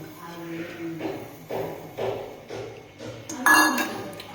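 A spoon stirs soaked semolina (rava) batter in a bowl, making soft rhythmic scrapes and light clinks about twice a second, with a sharper clink near the end.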